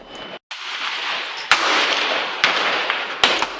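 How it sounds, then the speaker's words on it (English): A 1911 Commander pistol chambered in .45 ACP fires at an outdoor range, with about four sharp reports spaced roughly a second apart, each followed by a broad noisy wash of sound. "we're going to start shooting here in a second."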